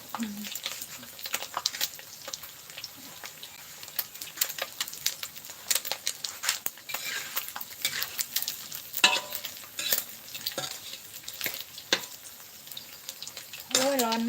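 Fish frying in hot oil, a continuous close crackling sizzle with irregular spatters and scraping stirs throughout, with faint talk now and then.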